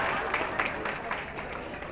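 Audience at a Buddhist Dhamma talk clapping, a dense patter of many hands kept up steadily through the moment and mixed with murmuring voices.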